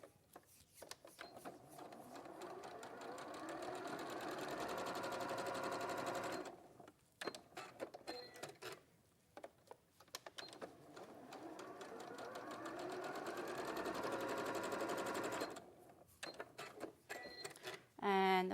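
A sewing machine top-stitching folded fabric edges runs in two long steady bursts of rapid, even stitching, close and loud, with brief pauses and small handling noises between runs.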